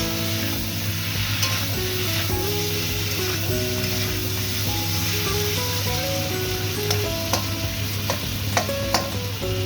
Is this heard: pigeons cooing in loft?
no